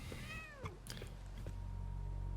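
A cat meows in the video game The Medium, several rising-and-falling cries close by over a steady low ambient hum, with a few soft clicks and taps in between.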